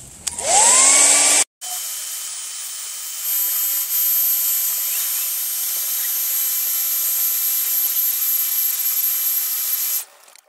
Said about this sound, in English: Hair dryer, heat gun, whatever works.